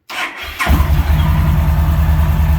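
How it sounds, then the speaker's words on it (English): A 2011 Yamaha Stryker motorcycle starts: a brief starter whir, then the engine catches and settles into a loud, deep, steady idle. "Fires right up. It's got a good deep sound to it."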